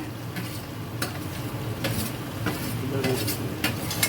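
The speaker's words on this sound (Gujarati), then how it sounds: "કેપ્સિકમ દૂધી ફ્લાવર હવે બધું શાક મિક્સ કરી જ નાખવાનું હે" Capsicum, bottle gourd and cauliflower being stirred in a pot, a loud close sizzle broken by repeated scraping and clinking of a utensil against the metal, no talk.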